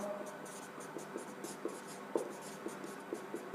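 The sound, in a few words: writing notes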